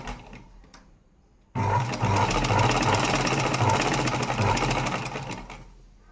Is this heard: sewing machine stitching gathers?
yes